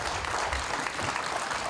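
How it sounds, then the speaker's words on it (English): A crowd at a bass fishing tournament weigh-in stage claps for the incoming MC in a short, even burst of applause. "so y'all give him a big round of applause"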